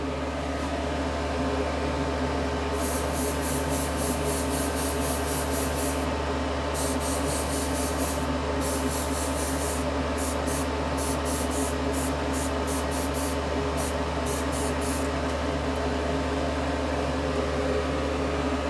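Paint is sprayed in repeated short and longer bursts from an airbrush or spray can to mist weathering onto a model car, each hiss standing out over a constant droning hum from a nearby fan or compressor.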